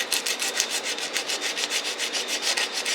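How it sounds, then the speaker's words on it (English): Coarse 36 grit sandpaper scuffing the edges of an aluminium bowl, rubbed in quick, steady back-and-forth strokes, about six per second, close and bright with no talk. "this is like 36 grit. I'm going to scuff up all the edges on both sides"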